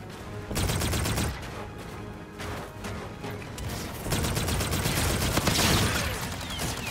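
Rapid gunfire crackles through a Call of Duty: Infinite Warfare team deathmatch, dense overlapping shots and mechanical clatter filling the whole stretch with no pauses.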